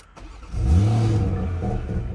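A 2020 BMW M340i engine turns over and catches, then settles into a steady, close idle with a brief rev.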